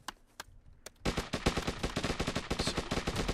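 Gunfire in the survival video game Hurtworld opens with a few isolated shots, then becomes a sustained rapid automatic burst, loud and close, with no talk over it.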